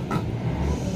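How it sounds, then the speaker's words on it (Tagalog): Trailer trucks in a neighboring lot rumble with a low, continuous engine drone that sounds somewhat distant and carries steadily through a short moment. "naririnig nyo yun, revolusyon ng truck"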